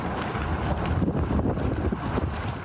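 A wind-driven wildfire roars in a steady, dense rush, with heavy gusting wind buffeting the microphone throughout and no voices.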